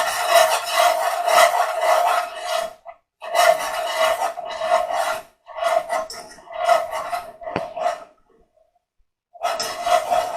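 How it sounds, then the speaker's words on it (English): Whisk working milk into a sauce for cod fish cakes, close scraping and rubbing strokes against a pan or bowl in long continuous bursts with brief pauses between them. "Use a whisk because it's much easier to make the sauce and combine it."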